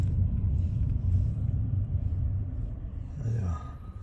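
Cars roll past on a street in Surrey, Canada, with Teslas and Fords among them, a steady low rumble of traffic close by that eases slightly toward the end.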